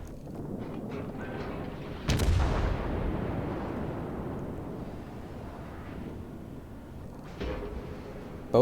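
Naval guns fire in World of Warships from the cruiser Pensacola: two heavy booming salvos, one loud and one softer several seconds later, each rolling off into a long rumbling decay over a low ambient hum.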